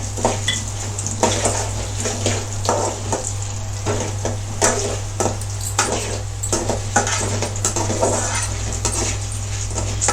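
Chana dal and urad dal frying in a pan, a constant sizzle under busy stirring, with a utensil repeatedly scraping and clinking against the metal, close and fairly loud over a low hum, no talking.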